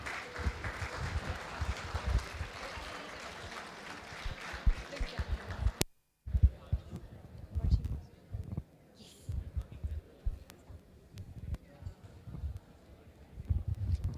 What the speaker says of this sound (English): Give it up a huge round of applause for ma'am.